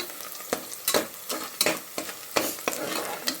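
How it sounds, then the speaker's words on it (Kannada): Rice frying in ghee in a pan, a soft continuous sizzle broken by rhythmic scraping stirs roughly every half second, close by and with no voices. "ಫ್ರೈ ಆಗ್ತಾ ಇದೆ"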